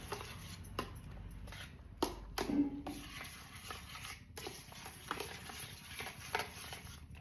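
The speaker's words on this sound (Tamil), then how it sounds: "முட்டையை உடச்சி ஊற்றி நல்லா போட்டு கிண்டிக்கலாம்" Egg broken into a pan and stirred for onion egg roast: quiet scraping and stirring strokes with faint sizzling and occasional light clinks of utensil on pan.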